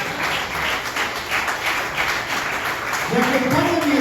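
A church congregation applauds together during a service, a broad steady wash of clapping with a voice starting to speak toward the end.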